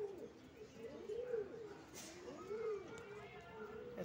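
A pigeon coos nearby in repeated soft, rising and falling calls, with faint chirps and people talking in the background.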